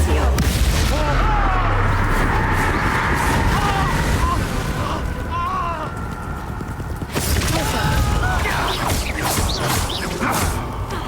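Explosive Confringo fire spells blast repeatedly in Hogwarts Legacy arena combat, loud booms and crackling bursts over constant game music and effects, with a voice speaking throughout.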